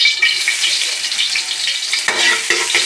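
Garlic dropped into a hot pan for fish sinigang sizzles and fries loudly up close, with stirring scrapes and a couple of sharper spatula knocks near the end.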